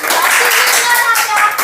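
Congregation clapping together during a children's worship service in a church, a dense steady patter of hands that holds for a short burst with some voices mixed in.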